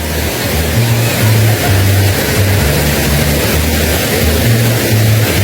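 Steady roar of the Wang Kan Lueang waterfall in Lopburi, a loud continuous wash of falling water with a low tonal hum running underneath.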